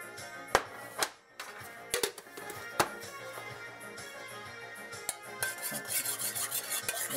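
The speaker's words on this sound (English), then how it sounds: "I'm gonna stir that in" A spoon stirs a teaspoon of sugar into cream in a bowl, with several sharp metallic clinks and taps against the dish and scraping in between, close and fairly quiet, with no voices.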